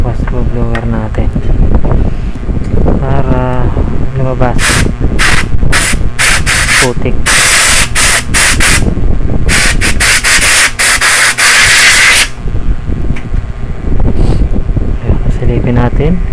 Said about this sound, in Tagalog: tapos blower natin